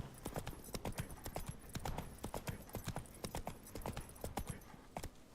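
A horse's hooves clip-clop at a steady walking pace in the video game The Witcher 3, with crisp, evenly spaced hoof strikes close by.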